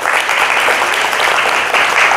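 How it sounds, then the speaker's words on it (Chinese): An audience at a speech-training session applauds, with dense, even clapping that carries on steadily at full volume for the whole stretch. "我们掌声鼓励一下，谢谢 Alicia"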